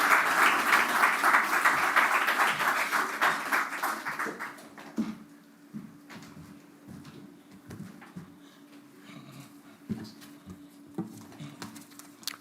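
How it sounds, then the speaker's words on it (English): Audience applause at a bank branch commissioning ceremony, dense clapping for about four seconds that thins into scattered claps and a faint hum. "A round of applause."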